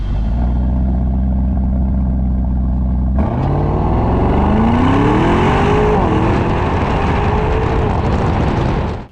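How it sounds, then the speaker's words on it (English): An Audi SQ8 SUV's 4-litre twin-turbo V8 idles with a deep, loud rumble through its quad exhausts, then barks into a hard rev about three seconds in and roars on at full throttle, its pitch sweeping upward. "It's the perfect way to evacuate volumes of air that 4-liter twin-turbo V8 can crank out at full chat. And when it does, it sounds pretty glorious."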